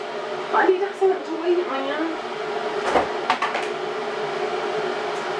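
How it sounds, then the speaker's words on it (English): An electric kettle boils water with a steady hiss and rumble in a home kitchen. Someone talks over it in the foreground. "if you can hear that, that's my kettle boiling"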